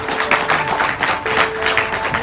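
A seminar audience in Jaipur gives a short round of applause, a crowd of hands clapping in a quick, uneven patter over a steady electronic hum.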